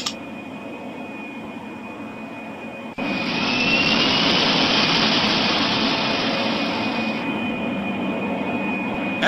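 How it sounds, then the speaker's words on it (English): Cartoon airplane taking off from a runway, a steady hum that jumps to a loud, broad engine roar about three seconds in and holds at full power to the end. "We're next on the runway to take off."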